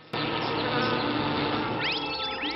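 Dense, steady buzzing of a swarm of bees from a 1991 film about bees and television, loud and continuous throughout, with some higher whirring tones rising near the end.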